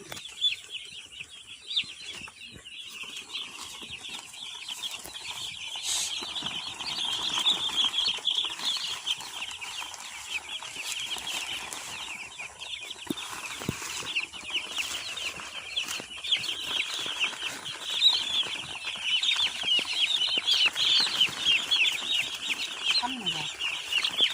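A crowd of chickens on a farm clucks and chatters without pause, with occasional wing flaps and rustling. The birds are fairly close and at a moderate level, and the noise rises slightly as time passes.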